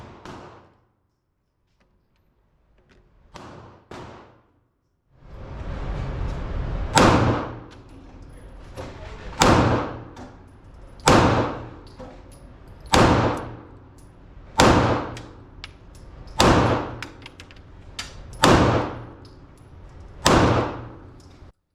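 Shots from a 9mm Walther pistol firing Troy Precision Target 124 grain ammunition: a few short clicks, then about nine sharp, loud reports at a steady pace of roughly one every one and a half seconds, each ringing out briefly.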